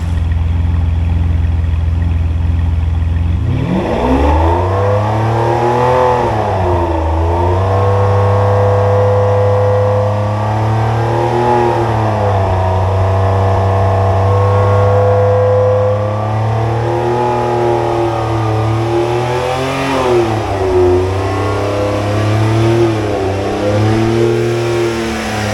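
A Ferrari engine starts from idle and revs up to about 4,500 rpm, a loud, steady mid-pitched roar that rises and falls in several swells, held near and alone with no talk.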